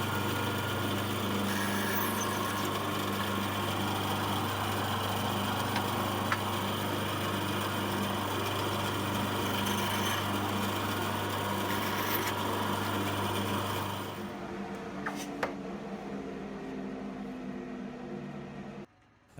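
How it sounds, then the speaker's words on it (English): A bandsaw steadily hums for a long stretch while wooden pieces for a plant stand are trimmed, a constant loud motor drone with faint cutting noise that drops away as the saw winds down near the end. "I gave them a little trim on the bandsaw."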